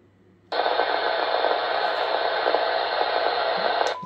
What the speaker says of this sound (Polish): Jakieś zakłócenia.